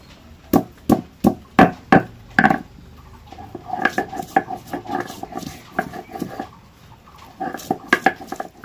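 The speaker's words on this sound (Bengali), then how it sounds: "এবার নিয়েছি 3টে কাঁচা লঙ্কা আর 1 টুকরো আদা, এগুলো সব বেটে নেব।" Green chillies, garlic and ginger are ground into a paste for prawn and lentil fritters: a few sharp knocks open, then rough, rhythmic grinding strokes follow up close.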